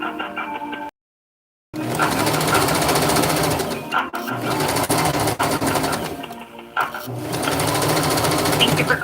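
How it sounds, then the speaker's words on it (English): A sewing machine runs loudly at close range in steady fast mechanical bursts, stopping briefly several times, with a voice talking over it. "I'm trying to get my sewing going."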